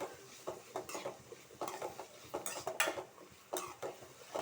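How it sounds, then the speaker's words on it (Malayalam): Sliced onions, green chilies and curry leaves are stirred in a pan for egg curry, a spoon scraping in soft, irregular strokes with a faint sizzle underneath. "സവാള പച്ചമുളക് കറിവേപ്പില ഇതെല്ലാം ഇട്ട് കൊടുത്തിട്ടുണ്ട് മിക്സ് ചെയ്ത് കൊടുക്കാം നന്നായിട്ട് ഇളക്കി കൊടുക്കാം"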